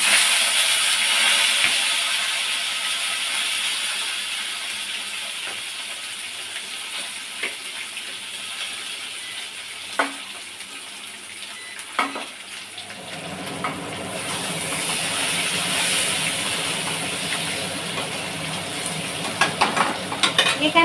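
Cauliflower and potatoes dropped into hot oil with five-spice tempering give a soft steady sizzle that swells into a louder, broader hiss partway through, with a few small clinks along the way.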